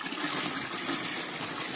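Water splashing and pouring steadily while children bathe a dog outdoors, a continuous close gushing wash with no clear speech.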